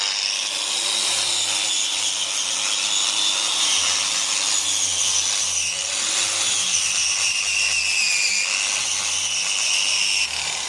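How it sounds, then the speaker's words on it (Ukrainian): Small angle grinder run at low speed to strip old wood finish during restoration of a swing or gazebo, a steady continuous whirring grind with rubbing abrasion, loud and close throughout. "Ставимо на маленьку болгарочку чи на велику, ну що є. І ставимо невеликі обороти, щоб сильно не випилювало."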